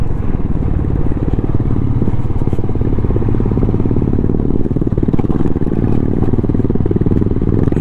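A Royal Enfield Himalayan and a Classic 350 riding on a mountain road between Darjeeling and Sikkim, engines thumping steadily and loudly up close, a continuous rumbling drone with rattling clatter throughout.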